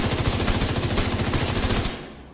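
Rapid automatic gunfire in a shooter video game, a fast even burst of loud, close shots for about two seconds before cutting off.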